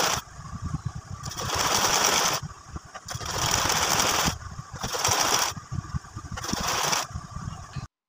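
A sewing machine stitches all around the edge of a baby girl's frock. The close motor whirs in four steady runs, with short pauses between them.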